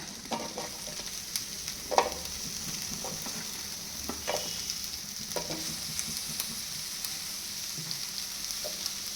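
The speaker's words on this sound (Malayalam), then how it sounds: "എല്ലാം ഒന്ന് വഴറ്റിയെടുക്കാം" Curry leaves, cumin and onion sauté in a pan for rajma curry, producing a faint, steady sizzle with scattered light scraping taps as everything is stirred.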